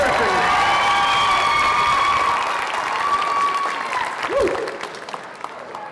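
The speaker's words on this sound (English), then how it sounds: "Give another round of applause for Morgan Jennifer." Audience at a school singing contest, L'Anse Creuse Idol, breaks into loud, sustained applause with some cheering, fading after a few seconds as a voice comes over the crowd.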